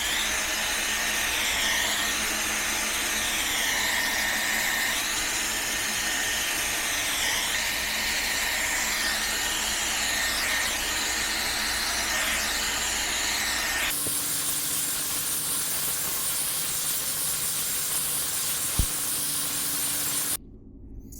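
A blow dry brush drying hair gives a loud, steady whooshing hiss that runs without a break, then shifts to a different airflow tone partway through before cutting off at the end.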